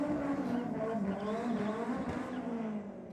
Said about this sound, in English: Going through their burnout.